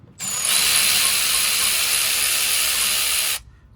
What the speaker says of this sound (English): Having power tools, game changer